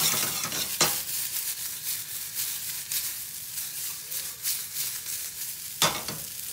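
Kerrygold butter melting in a frying pan, a steady soft sizzle with two sharp clinks of a utensil against the pan, no talk.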